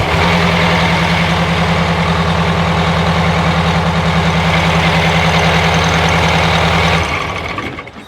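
Diesel engine of a 1990 Prevost XL coach idling close up, a steady low throbbing rumble that holds even for about seven seconds and then fades away, with no talking.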